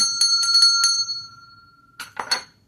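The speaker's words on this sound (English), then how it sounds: "Let's ring the bell for a real smile." A small bell is struck several times in quick succession, each strike ringing into a clear sustained tone that slowly fades, followed by a couple of brighter jangling rings.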